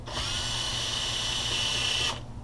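A power drill backs out Phillips screws in one close, high-pitched whirring burst of about two seconds that starts and stops abruptly.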